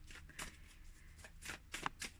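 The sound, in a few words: shuffling a deck of cards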